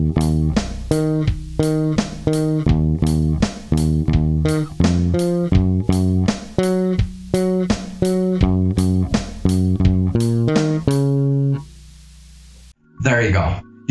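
A bass guitar plucks the first four bars of the chorus of a song, a quick, rhythmic run of punchy low notes lasting several seconds, then it stops and a brief voice speaks.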